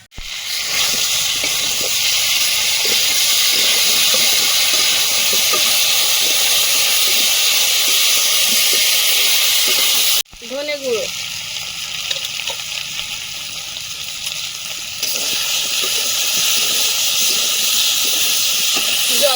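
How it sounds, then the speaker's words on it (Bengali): Ground spice paste hits fried elephant foot yam in a hot pan with a loud, steady hiss of sizzling that cuts off abruptly, then continues more quietly, with a brief voice at the break. "এবারে বাটা মশলাটা দিয়ে আর একটু কষিয়ে জল দিয়ে দেবো"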